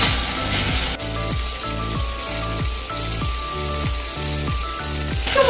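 Yakisoba noodles frying in a hot pan with a loud, steady crackling sizzle that carries on throughout, close up with no talking.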